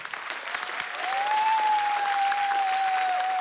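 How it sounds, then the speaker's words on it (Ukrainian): A comedy show audience applauds a stand-up monologue steadily, the clapping swelling after the first second into a full, sustained ovation with a faint whistle-like tone running through it. "Ваші оплески"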